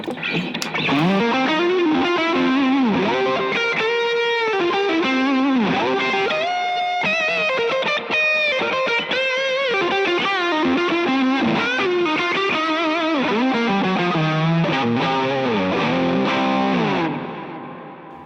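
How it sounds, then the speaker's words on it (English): Distorted electric guitar plays a sustained melodic line drenched in delay, echoes trailing and overlapping each note, ringing on before fading at the end. "So you can already hear those delay trails."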